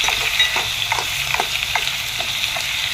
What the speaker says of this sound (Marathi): गॅसवरती थोडेसे तेल टाकून त्याच्यामध्ये थोडे खडे मसाले टाकावेत व थोडेसे हिरवे वाटाणे टाकावेत